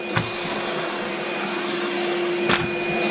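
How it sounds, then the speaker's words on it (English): A Henry cordless vacuum cleaner runs steadily with a constant whine and a broadband rush, close and continuous throughout, with two brief knocks partway through. "can I stop the hoover, please?"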